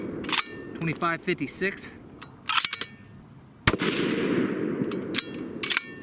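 A .308 Winchester rifle on a Bergara Premier barreled action fires a 168gr Aeromatch load, one sharp loud report ringing out into a decaying echo, while someone speaks briefly before and after the shot.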